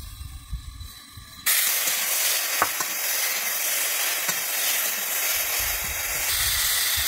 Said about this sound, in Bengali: আমার ঝিঙে আর আলুটা ভাজা হয়ে গেছে